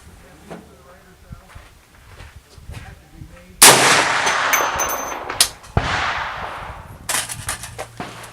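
A single loud rifle shot from a Radical Firearms 458 SOCOM fired outdoors rings out and decays, followed by a sharp metallic clank and later clicks, with people talking quietly before it.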